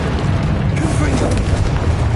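Confringo spell blast in the video game Hogwarts Legacy on PS5, a loud booming explosion with crackling bursts, heard together with a spoken voice.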